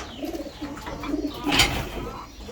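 Racing pigeons in a loft give soft, low coos amid a faint chirp or two, with a brief louder flutter or rustle midway through the short, fairly quiet stretch.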